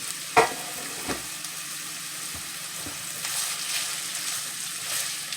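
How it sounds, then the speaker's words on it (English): Bacon and sausage brown in a pan with a soft, steady sizzle, punctuated by a few sharp utensil knocks and scrapes early on. "We're going to start getting the burn on that meat."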